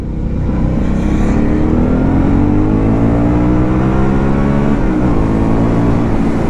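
An Aprilia Shiver 900 motorcycle engine drones loud and close, revving up steadily through a long pull with a brief dip near the end, no voices over it.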